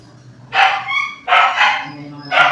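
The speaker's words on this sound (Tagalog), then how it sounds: "Ngayon ang asong lalaki." A male dog barks three times in quick succession, close and loud, each bark a short sharp burst with a brief tonal tail, spaced under a second apart against a quiet low hum.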